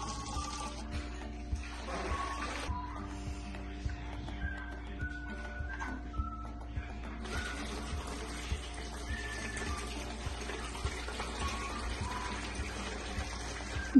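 Peeled koki beans being washed and stirred in water, a steady wet sloshing and trickling with small clinks throughout, moderately close, growing busier and louder in the second half.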